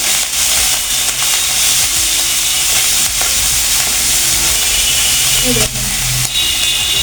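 Spice paste for chana ghugni sautéing in a pan, a loud continuous close sizzle and hiss with stirring scrapes, and a person talking over it.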